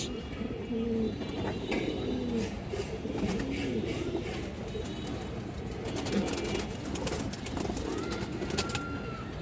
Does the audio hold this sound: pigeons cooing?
yes